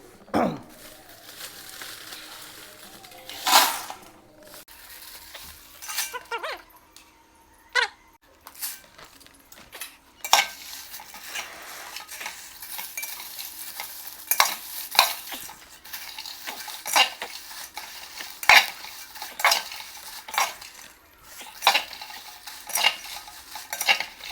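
Chilies being dry-roasted and stirred in a pan for homemade Agri Koli masala, repeated scraping and clattering of a spatula against metal in uneven strokes, with a faint background sizzle.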